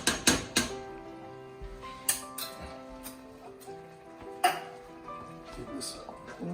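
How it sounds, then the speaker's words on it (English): A spoon clinks and scrapes against a cooking pot while tomato paste is stirred in for a Bolognese, giving sharp metallic taps at an uneven rhythm, close and fairly loud, with a few sustained tonal rings between strikes. "Give this a really good stir."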